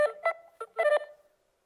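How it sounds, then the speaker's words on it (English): A short electronic phone ringtone plays alone, several bright tonal bursts in a quick melodic pattern ending in a brief sustained note, fairly loud and clear. "These are ringtones."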